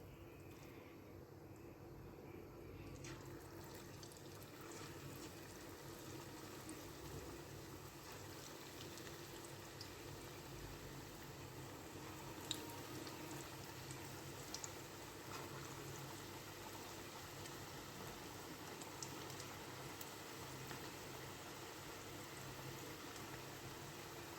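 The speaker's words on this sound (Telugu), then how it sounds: "ఆయిల్ బాగా వేడెక్కినది మనం ఇప్పుడు పకోడాస్ వేసుకుందాం" Cabbage pakodas fry in hot oil, giving a faint, continuous bubbling sizzle that holds steady throughout with no talking.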